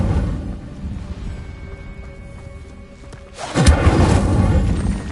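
A fire spell goes off in a fantasy video game: after a quiet stretch a sudden whooshing burst of flame erupts and roars on loudly for the last second and a half, with no talk.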